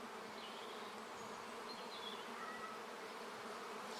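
Calm honeybees on the comb during an early-season hive inspection, a steady, even buzzing hum of many bees close by, with no talk over it.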